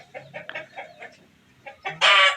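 Chickens in a Balinese house yard cluck in a string of short, close calls, rising at the end into a loud, harsh squawk or crow.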